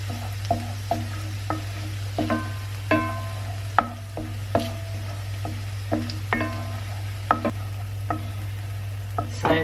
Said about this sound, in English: Now I'm going to add my curry powder.